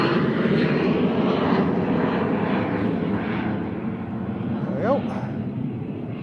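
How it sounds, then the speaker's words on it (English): A Cessna Citation business jet, registration G-Soul, at Liverpool John Lennon Airport gives off a loud, steady broadband engine roar that holds throughout with a slight swell near the end. "Cessna Citation, it's registration G-Soul."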